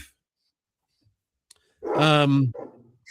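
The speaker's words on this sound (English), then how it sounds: "Who is barking?" A dog lets out a single drawn-out bark that rises out of near silence, with a couple of faint clicks before it and a brief softer tail after.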